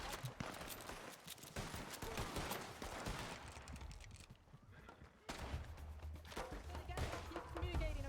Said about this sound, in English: Locals are shooting.